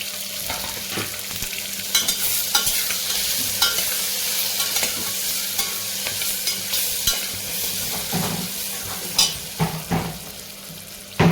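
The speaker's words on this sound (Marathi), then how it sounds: "टोमॅटो आपल्याला तेलात परतून घ्यायचे आहे" Tomatoes sizzle in hot oil while a spoon or spatula stirs and scrapes the pan, a steady fry with intermittent clinks, close and without talk, while preparing Maharashtrian masala bhat.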